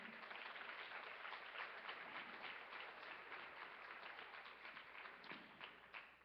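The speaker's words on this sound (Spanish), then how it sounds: "pues dele un fuerte aplauso al Señor." A church congregation at a women's conference applauds, a faint, dense burst of clapping that sounds muffled and distant and fades slightly toward the end.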